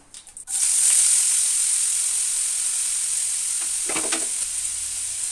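Potatoes frying in hot oil in a wok, a bright, steady sizzle bursting in suddenly after a few soft clinks and holding loud and close, with a brief stirring scrape near the end.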